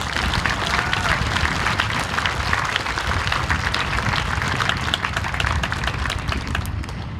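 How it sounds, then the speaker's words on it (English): At a Relay for Life 2015 celebration, an audience claps in a dense, continuous round of applause that stays loud and even throughout, with voices mixed into the crowd noise. "Let's give them a round of applause."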